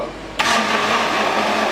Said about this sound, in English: Put everything in the blender